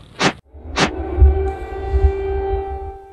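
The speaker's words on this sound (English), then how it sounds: "air raid sirens ring across Ukraine's capital, followed by the sound of explosions" Air raid sirens wail across Kyiv, Ukraine just after midnight on New Year 2023: a sustained, droning tonal siren with a low rumble, preceded by two quick rising whistles.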